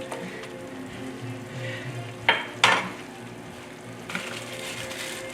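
Gyudon beef and onion sauce simmering in a pan on the smallest heat, a continuous gentle bubbling sizzle with two brief sharp utensil clacks midway.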